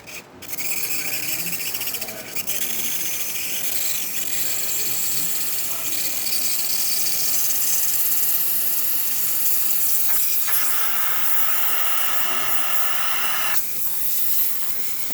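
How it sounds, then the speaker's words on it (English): Steam wand of a Breville Barista Express 3633.1 espresso machine, serviced and fitted with a new 3-way valve, letting out a loud, continuous close hiss that runs steadily for about fifteen seconds. "And now the steam, which is gonna take a bit for the machine to get to pressure."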